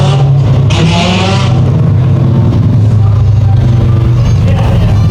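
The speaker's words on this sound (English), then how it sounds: "Those 4 cars ran nose to tail, head to tail for lap after lap after lap." Several race cars running nose to tail around the Evans Mills Raceway oval in a Sport Compact/Thunder Stock feature, engines roaring loudly and continuously close by, with a faint voice underneath.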